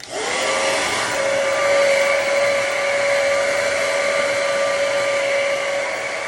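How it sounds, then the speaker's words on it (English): A Conair hair dryer blows steadily while drying hair for a straightening routine, a loud, continuous whooshing roar with a steady motor whine that holds constant throughout, close up and alone. "Take your hair dryer of choice."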